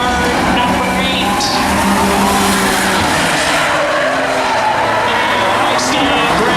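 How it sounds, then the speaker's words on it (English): The number 8 race car in a claimers race spins handbrake donuts to celebrate a win, tires squealing and skidding continuously under a loud revving engine while an announcer talks over it. "Brandon with the handbrake and doing donut to celebrate his win in the 8 car"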